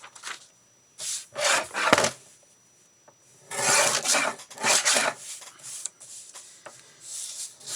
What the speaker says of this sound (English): I'm going to have to do something about my trimmer. I think it's getting dull.